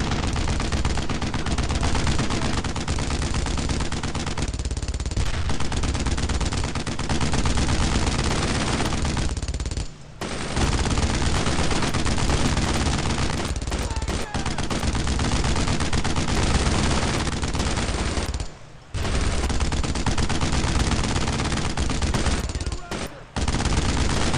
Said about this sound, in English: I need to take out this fucking machine gun